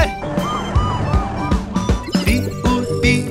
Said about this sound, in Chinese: 第五第五，拉响警报